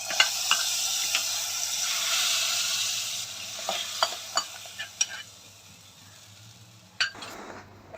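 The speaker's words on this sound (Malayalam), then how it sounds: "ഇനി ഞാനിതിലൂടെ കടുക് കൂടെ ഒന്ന് വറുത്ത് ചേർക്കട്ടെ" Mustard seeds frying in hot oil for a sambar tempering, a steady loud sizzle with scattered popping crackles and a few utensil clinks, fading toward the end before a final spatter.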